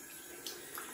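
Cold tap water runs and splashes as a face is rinsed after a shave, a brief close wash with a couple of sharper splashes.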